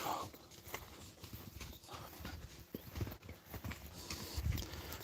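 Horse hooves clip-clopping at an uneven pace on the ground, fairly faint amid outdoor noise, with a voice speaking over them.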